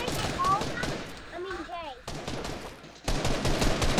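Gunfire in the shooting video game Frostic, dense bursts of rapid shots crackling loudly at the start and end with a quieter gap in between, while people talk.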